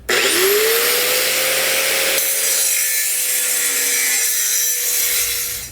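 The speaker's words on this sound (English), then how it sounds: "we're just going to use this angle grinder, go around the edge here so it's nice and flat." Angle grinder grinding the edge of a steel base plate on a 2020 Jeep Cherokee, a loud continuous high-pitched whine that dips slightly in pitch as it bites, then eases after about two seconds and continues alone.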